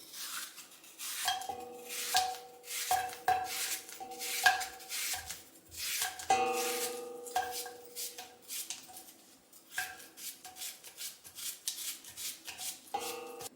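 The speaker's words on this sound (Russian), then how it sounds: "Нарезаю такими вот пластиночками." A knife slices apples into thin slices in a steady series of crisp cuts, with soft rubbing and clinks of a five-liter pot nearby and a faint voice at moments.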